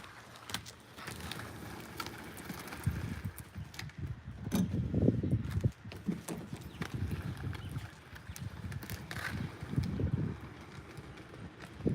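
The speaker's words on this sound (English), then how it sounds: "Oh, too much wind." Gusts of wind buffet an outdoor microphone in low, rumbling bursts that swell and fade irregularly, with scattered knocks and rustles over a continuous background.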